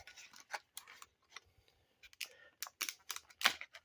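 A blade snips and cuts through the packaging of a Klein 11-in-1 impact-rated screwdriver and nut driver, giving a string of close, sharp crinkles and snips in an irregular rhythm around quiet gaps.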